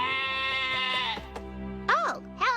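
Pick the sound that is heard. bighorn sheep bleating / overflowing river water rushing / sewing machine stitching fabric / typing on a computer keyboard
bighorn sheep bleating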